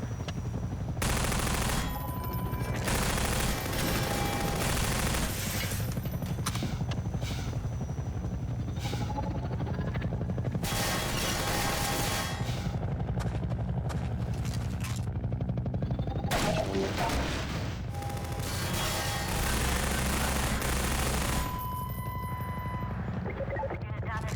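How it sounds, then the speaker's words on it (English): Helicopter gunship strafing with rapid machine-gun bursts in Half-Life 2, loud sustained rattling fire in several long volleys with rotor drone and gunfire effects throughout, a voice talking over the combat. "now we have to dodge this chopper."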